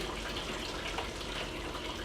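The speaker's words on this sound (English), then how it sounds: "so I'm going to drain my bleach" Bleach pouring out of a film developing tank while processing C41 colour negative film, a continuous close gush of liquid like a running tap.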